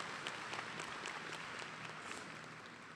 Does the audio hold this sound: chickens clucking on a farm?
no